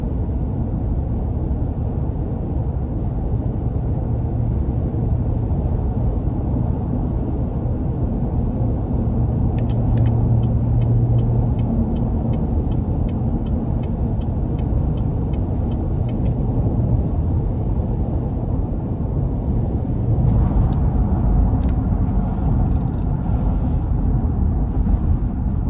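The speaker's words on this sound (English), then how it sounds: "it uses that cylinder deactivation mode, so it's only running on 4 cylinders right now." A 2016 GMC Yukon with 122,000 miles coasting downhill in cylinder deactivation mode, running on four cylinders: a steady low engine and road rumble inside the cabin, continuous and even throughout with no voices.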